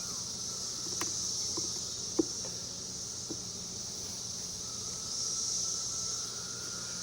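Honeybees buzzing steadily in a nuc hive during a frame inspection, a continuous hissing insect drone with a few faint knocks and clicks, no voices.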